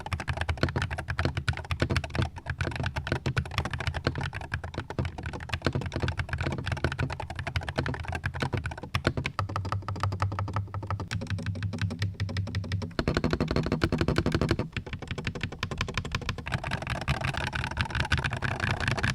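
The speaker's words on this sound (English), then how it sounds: "here's how the keyboard sounds" Continuous fast typing on a Mambasnake M82 HE magnetic Hall effect keyboard, a dense stream of close, crisp keystroke clacks with a steady low background hum and no speech.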